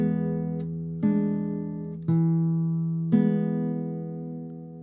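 A classical guitar sounds four slow chords from a bar of a Julio Sagreras beginner lesson, each struck cleanly and left ringing, close and alone without talk.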